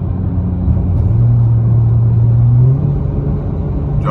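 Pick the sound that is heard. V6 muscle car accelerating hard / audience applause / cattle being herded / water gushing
V6 muscle car accelerating hard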